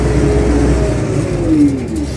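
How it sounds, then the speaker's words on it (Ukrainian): A steady, rumbling MTZ-80 tractor engine drones continuously with a slightly rough, labouring tone while ploughing frozen ground at -4°C, close by and without pause. "Так грубіше йде трактор"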